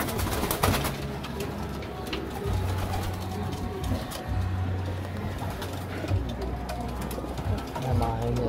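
Young pigeons coo repeatedly in a loft, soft low throaty calls recurring in steady bursts throughout, with faint background murmur and light rustling.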